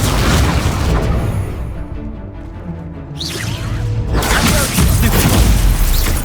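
A spell explodes in the Hogwarts Legacy video game, a loud blast and crash of game effects with whooshing debris that dips briefly before another burst, all close and dense.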